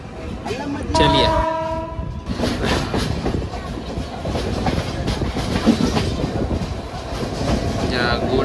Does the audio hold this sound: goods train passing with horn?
yes